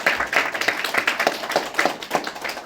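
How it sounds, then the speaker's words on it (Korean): A church congregation clapping together during a Sunday service, a quick, even run of hand claps, fairly close and sustained for a few seconds with no talk. "우리 은혜 받았습니다 하는 의미로 박수 한번 하겠습니다"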